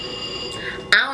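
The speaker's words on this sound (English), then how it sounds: "The bell just keeps going off." A door bell or alarm keeps going off indoors as a steady high electronic tone, with short sharp bursts near the end and a person talking over it.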